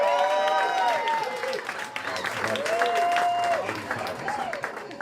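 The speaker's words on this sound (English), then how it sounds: "A round of applause if you've taken mushrooms." An audience claps loudly, with scattered whoops and cheers rising over the applause for a few seconds.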